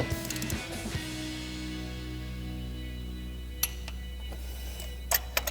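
A torque wrench set to 20 foot-pounds tightens a spark plug during an ignition kit install on a HEMI Challenger, with a brief burst of close ratcheting clicks at the start, a low steady hum, and a few sharp metallic clicks later on.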